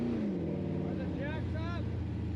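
Baja 1000 race car stuck in a ditch, its engine droning low and steady for a couple of seconds while voices talk over it.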